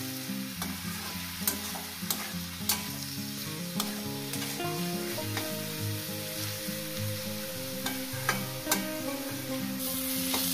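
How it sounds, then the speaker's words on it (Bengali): Onion, garlic and green chili fry in oil with turmeric and salt, a constant close sizzle punctuated by regular clicks and scrapes of a stirring spoon against the pan. "তো বন্ধুরা দেখুন আমি পেঁয়াজ আর রসুন কাঁচা লঙ্কাটাকে যেভাবে ভেজে নিচ্ছি"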